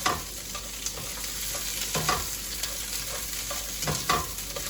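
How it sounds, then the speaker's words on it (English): Vegan meal prep ingredients sizzle in olive oil in a pan, a steady close frying hiss broken by a few clacks and scrapes from stirring. "Sizzle, sizzle, sizzle."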